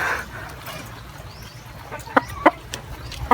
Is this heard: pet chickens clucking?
yes